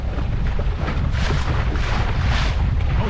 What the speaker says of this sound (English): That wind just keeps going around.